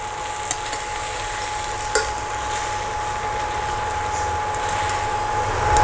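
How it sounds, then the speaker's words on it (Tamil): Vegetables for a foxtail millet biryani sauté in a pan with a steady sizzle and occasional stirring scrapes, plus a faint constant hum in the background. "வெஜிடபிள்ஸ் நல்லா வதங்கணும். ஒரு 15 நிமிஷம் நல்லா வதக்குங்க."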